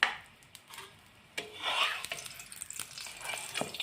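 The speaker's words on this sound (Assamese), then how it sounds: "পৰঠাটো এনেদৰে ওলট পালট কৰি শুকানকৈ ভাজি ল'লোঁ প্ৰথমত" Lachha paratha fries in refined oil in a pan, giving a faint, uneven sizzle broken by soft scraping and rubbing strokes as it is flipped and pressed.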